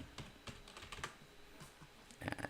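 Fingers type on a computer keyboard in quick, uneven runs of light clicks, close and fairly quiet, ending in a brief denser burst of keystrokes.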